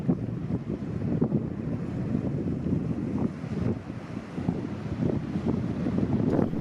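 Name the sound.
wind on a cold day at a lighthouse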